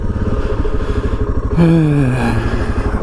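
A 2016 Suzuki DR650 single-cylinder dual-sport motorcycle engine runs close by with a loud, steady thumping rhythm, then rises in pitch as it revs up partway through.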